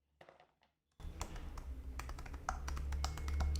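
Quick, close clicks of typing on a compact Samsung Galaxy Tab S11 keyboard cover, a brisk irregular patter of keystrokes over a low background hum after a few soft initial taps.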